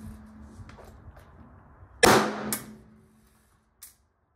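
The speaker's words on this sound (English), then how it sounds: "now it's time to test Magtech steel case 9mm for velocity through a Beretta 92. We're going to do 5 shots" Magtech steel case 9mm ammunition fired through a Beretta 92 pistol: a loud, sharp shot with a ringing tail, a second report half a second later, then a faint brief crack after a pause, with no talking.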